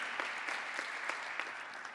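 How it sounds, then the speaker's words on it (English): Audience applause at a closing plenary session of an island innovation conference, a steady dense wash of many hands clapping at moderate distance, even and sustained throughout. "a round of applause for Elena especially"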